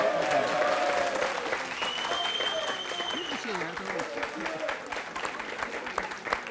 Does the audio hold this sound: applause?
yes